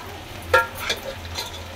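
Sabudana is tipped into chillies frying in a pan, a brief rattling burst over a faint, low sizzle.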